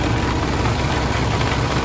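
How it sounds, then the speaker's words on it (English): A 2015 Kenworth T660 with a Paccar MX 485 diesel idling, a low, even, quiet rumble with a steady throb that holds through the short stretch and no voices over it. "One of my favorite things about the Paccar engine is it's very quiet."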